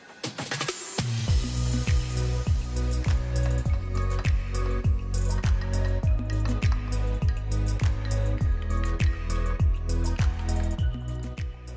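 Potato starch, water and soy sauce stirred together into a slurry in a small dish, giving a steady run of quick, close, wet clicks and squishes with a rhythmic beat, loud and alone without talk.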